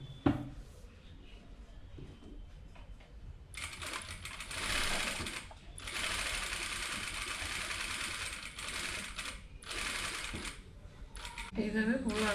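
A sewing machine stitches along a kameez neckline in several bursts of rapid whirring separated by short pauses, with a quiet voice talking before and between runs.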